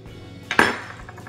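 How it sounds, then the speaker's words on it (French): One close, bright clink of a spoon scraping a dish of fruit compote, a single short metallic scoop over quiet room tone. "je mange une dernière cuillère de ma compote."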